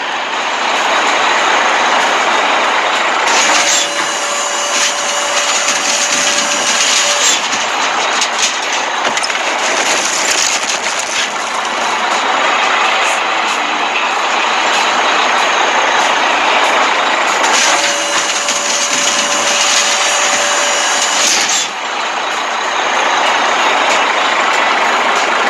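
A haul truck in a construction setting runs with a loud, steady engine drone throughout, swelling twice as a higher whine or tone rises over the rumble and then falls away, with no talk.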